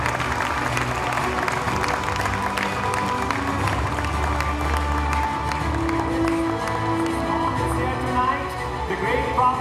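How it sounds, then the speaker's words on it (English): An audience at an awards gala applauds and cheers, a dense, sustained wash of clapping from a sizable crowd lasting around ten seconds with some voices mixed in. "Big round of applause for him."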